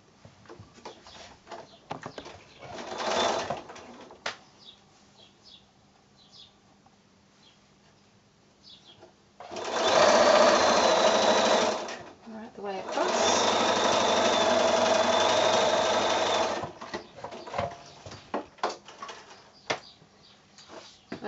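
A sewing machine stitches pieces of a quilt house block in two sustained bursts of steady whirring, close and loud, with quieter handling sounds and brief movement noises between them.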